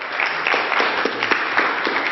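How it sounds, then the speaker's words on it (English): Audience applause for two students pulled up at a boot camp session, a dense steady round of clapping that fills the whole stretch at even loudness, no voices over it. "Guys, round of applause for these two."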